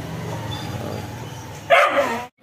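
A pet dog at a house gives a single short, fairly loud bark near the end, preceded by a low steady background hum and followed by an abrupt cut to silence.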